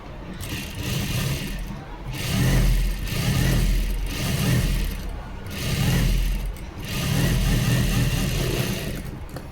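A sewing machine runs a double cover stitch along a blouse seam, its motor whirring in steady repeating surges with a rhythmic mechanical clatter.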